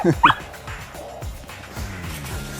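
A pet dog yips, whimpers and barks in a short excited burst at the start, followed by quieter rustling and low thuds nearby.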